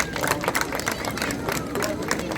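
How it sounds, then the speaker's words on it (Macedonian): An audience claps at an outdoor dog show for Macedonian shepherd dogs, a short burst of scattered, moderately faint applause with some crowd murmur. "Ве молам аплауз."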